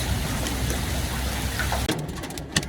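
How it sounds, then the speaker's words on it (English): Hail pelts the ground outside an underground bunker, a dense, steady patter of many small impacts. Near the end it gives way to a few sharper, scattered hits. "It is hailing here the beginning of June, and that's hail."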